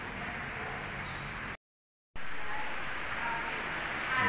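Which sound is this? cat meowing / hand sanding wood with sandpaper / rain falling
rain falling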